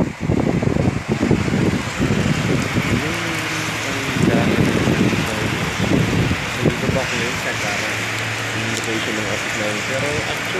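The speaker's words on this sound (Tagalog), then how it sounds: "Ang lakas ng ulan po ngayong umaga." Heavy morning rain pours steadily in Dhahran, Saudi Arabia, a dense constant hiss with a low rumble beneath, while a person talks over it throughout.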